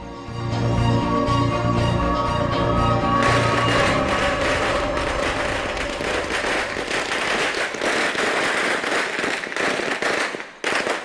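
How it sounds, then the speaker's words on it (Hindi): A loud string of firecrackers bursts in rapid crackling pops, dense and continuous, thinning toward the end with scattered sharp bangs. "पटाखे तो फूट गए"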